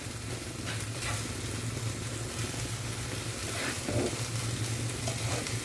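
Bombay duck (lote fish) being stirred and dry-fried in a pan, a steady close sizzle layered with scraping spatula strokes and occasional scrapes louder than the rest, over a low constant hum.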